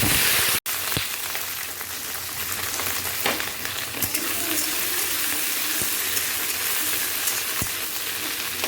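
Sliced okra and onion fry in a hot pan, giving a loud, continuous close-up sizzle with occasional stirring clicks throughout.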